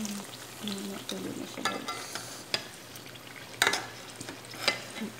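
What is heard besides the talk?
eggplant browning while frying in pan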